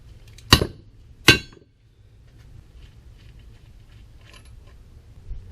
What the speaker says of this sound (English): Now we'll go ahead and hit the knuckle up.